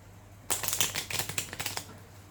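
An ordinary deck of playing cards is riffled up close, giving one quick burst of rapid, crisp flicking clicks that lasts under two seconds before fading.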